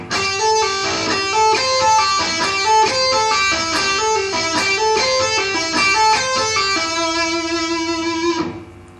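A guitar plays a hammer-on and pull-off finger pattern on a pentatonic shape, slowly and evenly. The notes are picked one after another in a repeating run and sound close, clear and alone with no voices.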